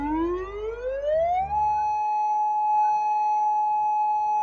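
A tsunami warning siren on the US West Coast winds up in a rising wail and then holds a steady, loud tone, sounding alone without voices.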